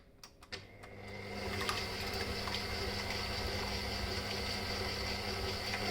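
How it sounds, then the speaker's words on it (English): An electric mixer whisks apple cake batter ingredients. A few clicks come first, then the motor spins up into a steady, even whirring hum that holds without pause. "we're going to turn it on and we're going to whisk the ingredients for 5 minutes"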